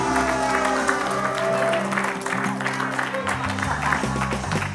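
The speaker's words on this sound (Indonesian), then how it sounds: "Tepuk tangan buat Natasha" A studio audience on an Indonesian comedy talk show applauds over sustained background music, with the clapping steady and moderately loud throughout.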